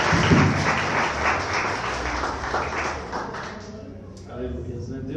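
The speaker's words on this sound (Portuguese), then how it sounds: "aplauda o Senhor" Church congregation applauding in a worship service, a broad wash of clapping that fills the room and then thins out near the end, with voices mixed underneath.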